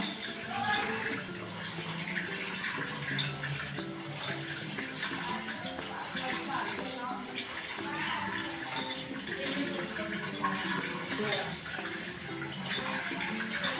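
Chil bhaji leaves are washed under running water, a steady close rush and splash from the tap, with faint sounds of handling mixed in throughout.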